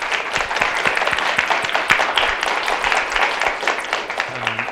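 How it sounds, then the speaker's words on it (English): Sustained applause from a crowd, dense overlapping clapping that stays loud and steady throughout. "Let's give our panelists a round of applause."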